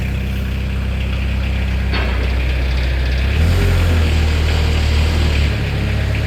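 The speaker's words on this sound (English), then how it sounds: "We're gonna let the glow plugs heat up and then we're gonna fire her right up." A Kubota V2203 diesel engine on a 2014 Moffett M55 truck-mounted piggyback forklift cranks and catches around the two-second mark, then settles into a steady, loud close-up idle with a slight rise in the middle.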